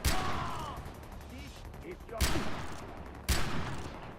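Gunfire in Far Cry 4, heard as three sharp, loud blasts spread over a few seconds, each decaying into a rattling tail over a low background of game ambience.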